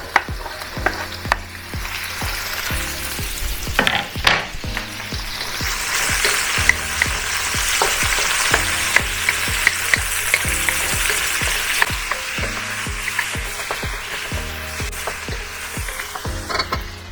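Pork fries in a pan with loud, constant sizzling and crackling, while a utensil stirs and scrapes in irregular rhythmic strokes close up throughout.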